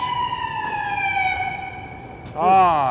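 A wailing emergency siren with steady harmonic tones for over two seconds, then a sudden loud rising-falling sweep as the vehicle draws near, set among ongoing conversation.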